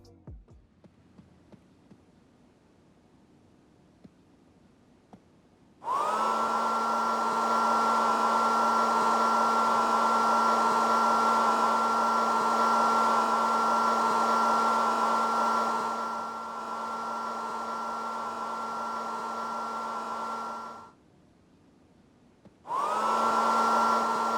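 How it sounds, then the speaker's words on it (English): Hand dryer in a bathroom of the video game Payday 2 switching on with a loud, steady whirring hum that runs for about fifteen seconds, cuts out briefly, then starts again. "The hand dryers will switch on if you are underneath them."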